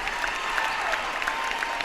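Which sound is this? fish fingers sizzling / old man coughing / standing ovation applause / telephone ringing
standing ovation applause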